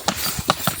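Horse hooves clip-clop on a cement pathway in Tayabas during coconut hauling, a few distinct close hoof strikes in an uneven rhythm, fairly loud and clear with no talk.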